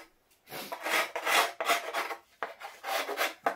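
Rasping file strokes on the edges of an antique violin under restoration, about five steady, close back-and-forth scrapes in a regular rhythm with no talking.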